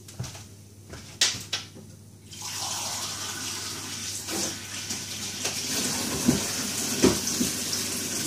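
A kitchen tap runs into a kettle, a steady rushing stream of water that starts after a few knocks and clatters. It carries on close and moderately loud, with no talking.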